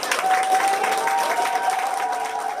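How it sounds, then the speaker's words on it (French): A crowd applauds children after a performance, steady clapping heard throughout with a faint whistle-like tone drifting over it. "il faudrait les applaudir quand même beaucoup plus fort"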